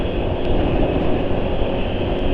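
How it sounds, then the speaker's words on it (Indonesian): An engine running on Mesran B40 SAE 40 oil idles smoothly with a steady, even hum that stays loud and constant throughout, with no other sounds. "Suara mesin halus."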